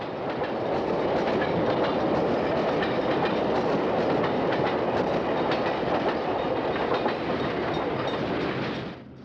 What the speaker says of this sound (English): A commuter train blasts through Blue Island on the Rock Island main line headed for Joliet behind one of Metra's then new F40PH locomotives